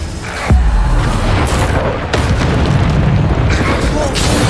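Booming spell explosions go off in a Hogwarts Legacy battle, several heavy blasts at about half-second and two-second intervals over a dense bed of combat noise, loud and close, with shouted spell names from a voice.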